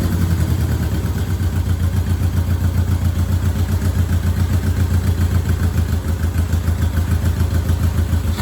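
Honda CB350 twin motorcycle engine running just after a choked start, a steady, loud, close idle with an even rhythmic putter and mechanical clatter throughout, no voices.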